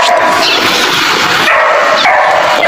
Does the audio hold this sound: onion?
no